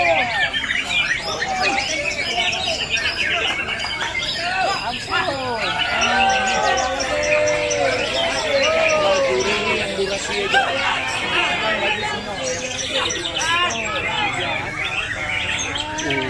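Many white-rumped shamas sing at once at a bird-song contest in Banda Aceh, a dense, continuous chorus of bright whistles and trills, with people talking underneath throughout.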